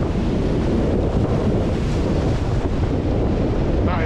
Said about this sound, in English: these waves are nuts.